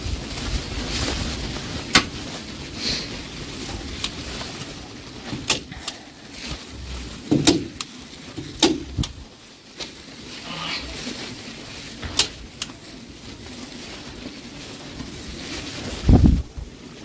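Gusty outdoor wind after a hurricane buffets the microphone in uneven rushes, broken by several sharp knocks and clicks.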